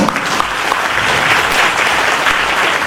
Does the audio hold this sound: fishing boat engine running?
no